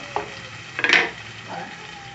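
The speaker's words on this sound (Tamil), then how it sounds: "வதங்க விட்டுட்டு அதை கொஞ்சம் கிளறி விட்டுட்டு" Food sautéing in a hot pan, a close sizzle broken by a few sharp scrapes of a spoon stirring, with the loudest stroke near the middle.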